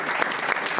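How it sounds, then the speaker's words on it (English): Audience applause for a school math team at an assembly, a steady, dense wash of many hands clapping throughout the short stretch, fairly loud and continuous with no voices over it. "Let's round of applause."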